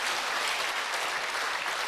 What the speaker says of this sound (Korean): 자, 박수로 주님께 영광 드립니다.